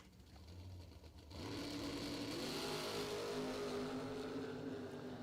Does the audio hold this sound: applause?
no